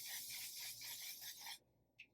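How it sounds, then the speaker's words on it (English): Aerosol makeup setting spray misted onto a face, a continuous close bright hiss of about a second and a half that stops abruptly, then a brief faint follow-up puff, no voices. "It is an aerosol setting spray."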